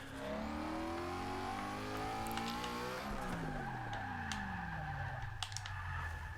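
Mustang drift car in Forza Motorsport 6 at Road Atlanta, engine droning and revving with rising pitch, then shifting and dropping as the tires skid, loud and steady throughout with faint clicks.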